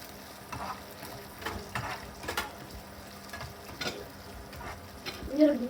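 Ingredients for a chicken biryani are sautéed and stirred in ghee in a pan, producing a steady sizzle broken by repeated scraping strokes, close and continuous.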